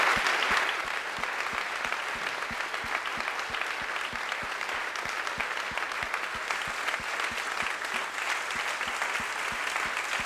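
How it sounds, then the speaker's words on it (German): Steady, dense audience applause at the close of a conference session in Dresden, a continuous wash of many hands clapping that carries on unbroken for about ten seconds. "Und das ist dein Applaus."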